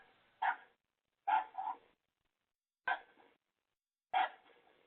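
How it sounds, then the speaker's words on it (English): A dog barks four times in short, spaced bursts, one a quick double bark, fairly faint against silence. "a barking dog"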